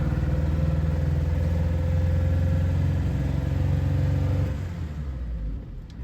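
A 1952 Triumph Mayflower pulling away in first gear, its engine a steady, close, low rumbling drone that holds for several seconds and then eases off near the end.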